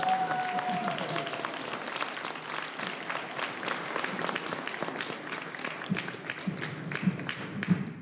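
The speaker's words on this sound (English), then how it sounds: "Let's give a big round of applause for Roman." An audience at a school records ceremony applauds Roman for his 127-foot javelin throw, with steady, moderately distant clapping from a crowd that holds an even level throughout.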